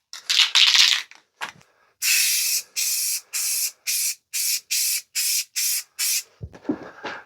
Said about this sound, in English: the first thing I'm going to do is just spray this headstock black